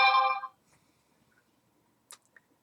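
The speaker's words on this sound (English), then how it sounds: "Notifications." A phone notification chimes once, a short tonal ping in a quiet room, followed by a couple of faint ticks.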